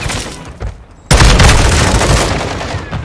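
Gunfire from Modern Warfare 2, played with a TAQ-56 rifle, bursts in loud and close after a short quieter moment, then rattles on in a dense, continuous volley.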